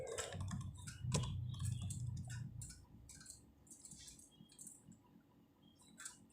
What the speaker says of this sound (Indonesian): Kita ketikkan 10 juta.